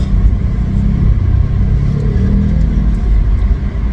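Cars in heavy highway traffic, a steady low engine rumble and rolling road noise with a faint rev rising in the middle, close and continuous, no talk.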